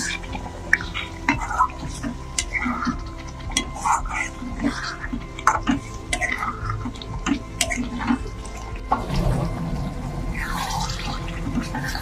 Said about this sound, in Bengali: জল দিয়ে দেওয়া হচ্ছে যাতে মশলাটা পুড়ে না যায়।